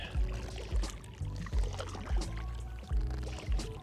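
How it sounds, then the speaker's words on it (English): Gusty wind buffets an outdoor microphone in loud, rumbling low-frequency surges that come roughly every half second to second across the clip, with no clear speech over it. "The wind's just blowing me out."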